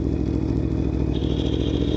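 A 2018 Aprilia Tuono V4 1100 Factory motorcycle engine drones steadily and loudly while the bike is ridden, holding an even, continuous roar with no speech.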